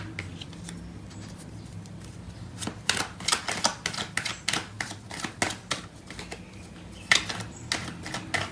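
Tarot cards shuffled by hand for clarifier cards during a love reading, a run of crisp, close riffling bursts and soft slaps over a low background hum, with no talking.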